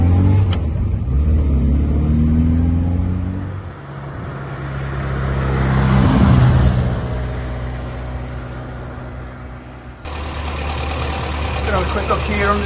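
A 1963 Morris 1000 Tourer's small engine hums and idles, swelling as it drives past and slows, with wind noise and a steady mid-pitched drone.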